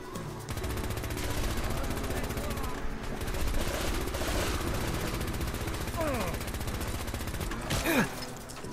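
Heavy weapons fire in the Fallout 4 Far Harbor game as rapid, repeating shots that sound like an automatic gun. The loud, dense gunfire continues over a rumbling backdrop, and a sharper burst sounds near the end.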